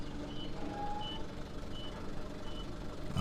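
A forklift's reversing alarm beeps in a regular repeating pattern as it drives backward, fairly faint over a low engine rumble.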